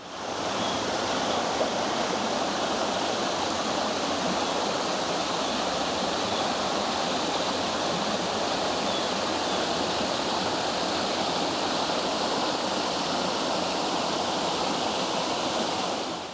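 Ozone Falls, a waterfall in a canyon, roars as a constant, dense rush of falling water that holds steady and loud throughout, with no voices.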